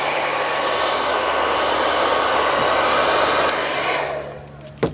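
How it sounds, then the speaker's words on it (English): A heat gun blows a steady, loud whooshing hiss while heating tint film on a Dodge Charger tail light, then cuts off near the end, leaving a quieter hum and a brief click. "this heat gun is just, or air dryer, blow dryer, just there to heat that up"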